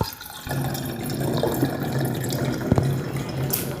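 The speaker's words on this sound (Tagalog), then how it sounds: "Kuha tayong tubig dito." Water runs from a tap into a glass, a steady pouring gurgle that starts after a brief pause and continues close by.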